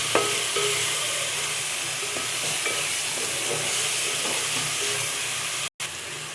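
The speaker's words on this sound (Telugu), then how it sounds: "మసాలా వేగిపోయింది." Masala spices fry in a pan with a loud, steady sizzling hiss close by, the sound continuous apart from a brief cut near the end.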